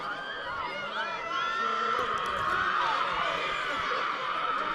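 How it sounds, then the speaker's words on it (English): Football crowd at a high school game shouting and roaring at the referees, a dense sustained wall of voices from the stands, with a commentator talking over it. "You hear the crowd saying, hey, make the right call here."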